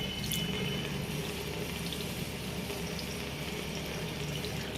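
Tap water runs in a steady, unbroken stream into a sink for rinsing off a cleansing balm during a face wash, close and even throughout, with nobody speaking.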